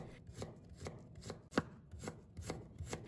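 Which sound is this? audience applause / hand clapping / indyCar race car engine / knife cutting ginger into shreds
knife cutting ginger into shreds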